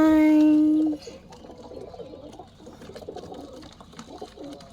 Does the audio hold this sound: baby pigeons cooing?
yes